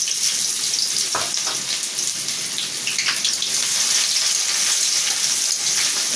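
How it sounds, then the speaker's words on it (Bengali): Onion frying in hot oil in a pan for shola kachur ghant with hilsa fish head, a dense, even hiss of sizzling throughout with a few faint stirring knocks, close and steady. "এটা আমি লাল লাল করে ভেজে নেব।"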